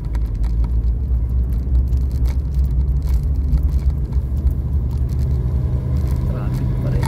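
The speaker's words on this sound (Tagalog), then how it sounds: "Traffic pa rin." Steady low rumble of road traffic with cars passing nearby, a constant dense drone throughout with a voice talking faintly over it.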